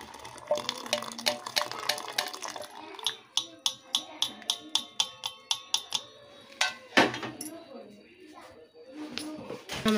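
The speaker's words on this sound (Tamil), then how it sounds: "நல்லா ஒரு பாத்திரத்தில் நம்ம நல்லா ஒரு வடிகட்டி வச்சு நல்லா வடிச்சுக்கலாம்." Boiled tea strained through a strainer into a kitchen vessel, with metal taps and clinks in a quick, even series against the utensil, plus trickling liquid, and a person talking over the first part.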